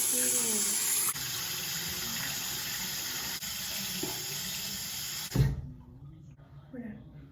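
A bathroom faucet runs in a steady hiss while teeth are brushed, then shuts off with a knock, leaving a quieter room with a few faint sounds afterward.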